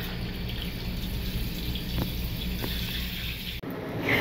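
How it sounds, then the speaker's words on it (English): Water runs and drips steadily from around the shower handle of a 2024 Jayco Seneca 37L RV, a continuous close splashing and trickling with a couple of faint knocks, no talking. "as soon as water hits anywhere around this handle area, you can see that it's allowing the water to completely come down and out"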